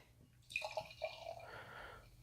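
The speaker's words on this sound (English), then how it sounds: "I'm gonna pour this into the Thin Man glass" Beer, a 5 to 5.5% Dog Birthday Party collaboration from Pressure Drop Brewing and Thin Man Brewery, pours into a Thin Man glass: a close, steady splashing stream starting after a short pause, with no talk.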